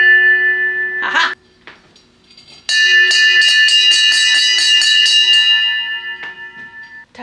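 A freshly cleaned brass bell rings close and loud in two bursts, a short strike followed by a longer run of rapid repeated clangs whose bright tones ring on and slowly fade, alone with no talk.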